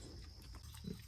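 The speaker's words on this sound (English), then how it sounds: "you're a good pig" Low snorting grunts from a friendly farm pig, close by and fairly quiet, with one deeper grunt near the end against steady farmyard background.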